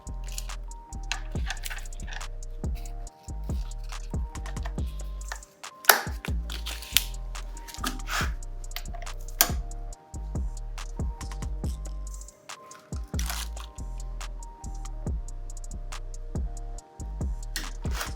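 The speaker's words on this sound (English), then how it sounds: "we're just going to set our torque wrench at 95 foot-pounds and get this all torqued down" A digital torque wrench tightens bolts to 95 foot-pounds during an RB engine swap into a 240Z, giving repeated close clicks and ratcheting ticks in uneven bursts with short pauses between them.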